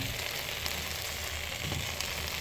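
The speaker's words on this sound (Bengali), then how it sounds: "অ্যাড করে এটা এবার ভালো করে নাড়ব।" Khichuri of rice, lentils, vegetables and a little sugar being stirred in a pan, a steady low sizzle and soft scraping throughout, close and continuous with no talking.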